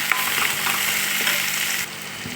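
Tomatoes and chopped green chillies fry in a pan for homemade pasta, a steady broadband sizzle with light stirring scrapes, close and continuous, briefly quieter near the end.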